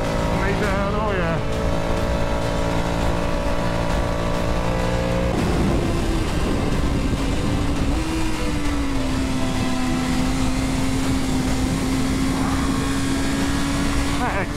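2023 BMW S1000RR sport bike ridden hard, its engine droning loud and steady with the pitch rising and falling through gear changes, wind rush throughout and a voice talking over it.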